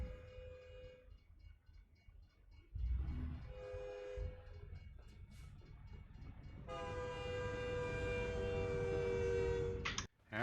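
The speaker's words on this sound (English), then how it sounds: "This train's still going?" Freight train passing a level crossing in American Truck Simulator, a loud steady rumble of rolling cars with a long sustained horn blast toward the end, then an abrupt cut.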